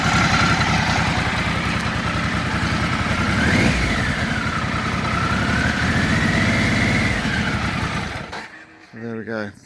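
A 1996 Triumph Trophy 900 motorcycle engine runs at a steady idle close by with a brief rise in revs, then cuts off near the end, leaving a short spoken remark.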